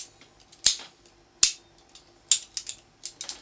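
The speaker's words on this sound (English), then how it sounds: "So what we ended up using, rather than the actual gun, was a pair of vice grips." A pair of vice grips standing in for a Colt 45 revolver gives sharp, close metallic snaps, with three well-spaced clicks followed by a quicker cluster of lighter clicks in a quiet room.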